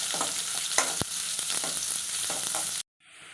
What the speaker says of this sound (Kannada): ಇವಾಗ ಈರುಳ್ಳಿ ಇದ್ದೀನಿ ಇದು ಒಂದು ನಿಮಿಷ ಚೆನ್ನಾಗಿ ಫ್ರೈ ಮಾಡ್ತೀನಿ